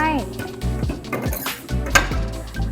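Shaft being fitted into a soft-serve ice cream machine, with metallic clinks, knocks and scraping parts sounding close and sharp over a short stretch, and someone talking between the clanks.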